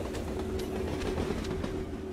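A train rolling past in a city garbage-collecting video game, a steady rumbling rail noise with a faint sustained whine, moderately loud and unbroken, with no talking.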